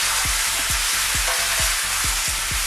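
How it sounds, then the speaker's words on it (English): Ground chili pepper sizzles steadily in a very hot wok during a vegan stir-fry, with rhythmic stirring scrapes repeating about every half second beneath the constant hiss. "putting the chili pepper into the wok while you're frying it"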